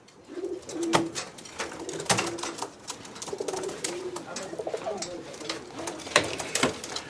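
Pigeons coo softly and repeatedly in a loft, with rustling and faint background activity, a few sharp clatters and wing noises among the low rolling calls.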